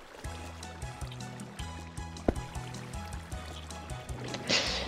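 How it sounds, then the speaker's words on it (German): Flowing water in the Minecraft world, a soft steady trickle running under a repeating low musical bed, with a brief sharp tick near the middle and a brighter splash-like swell near the end. "da ist ja Wasser"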